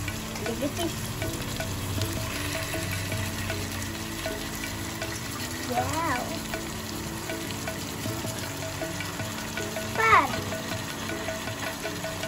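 Chicken leg pieces frying in a pan with turmeric and salt, a steady soft sizzle with occasional stirring scrapes, while voices and someone talk faintly in the background of a home kitchen.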